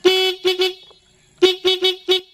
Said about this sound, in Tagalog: Ngayon subukan na natin kung gagana ang stock horn.